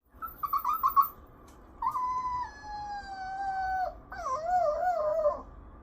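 A human voice imitates a screaming, overloaded PC that is streaming a game, using high wailing and whining tones in several rising and falling bursts that are close and fairly loud.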